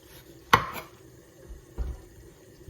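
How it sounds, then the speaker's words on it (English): A knife cuts through the end of an eggplant on a board: one sharp crisp chop, followed by a softer thud a second later, close up with no talk. "Slice this end."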